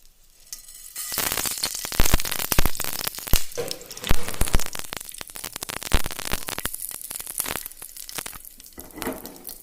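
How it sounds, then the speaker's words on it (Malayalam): Mustard seeds and a dried red chili hit hot oil in a pan, bursting into loud crackling and sizzling with sharp popping spatters that start abruptly and continue unevenly close by. "നമുക്കതിൽ കടുകും 1 വറ്റൽമുളകും കൂടി ഞാൻ ചേർത്തി കൊടുക്കുന്നുണ്ട്"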